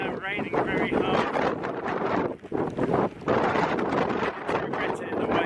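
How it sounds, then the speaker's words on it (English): Heavy rain and strong wind buffet an outdoor spot on a Devon hilltop, a steady, loud roar of gusts and downpour hitting the microphone throughout, with brief dips in intensity. "Now raining very hard."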